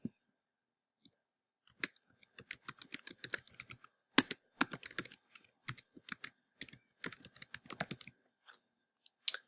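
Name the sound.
typing on a computer keyboard to enter information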